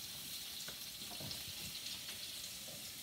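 Apples sizzling and frying in hot bacon grease in a pan, a steady crackling hiss with occasional soft clinks, no talking.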